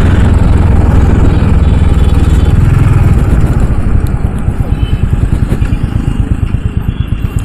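Royal Enfield Classic 350 motorcycle, about 195 kg, riding along with a loud, steady single-cylinder engine drone and a rhythmic low thump that becomes more distinctly pulsed toward the end, with wind rush throughout and no talk.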